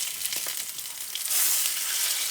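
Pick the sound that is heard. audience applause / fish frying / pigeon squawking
fish frying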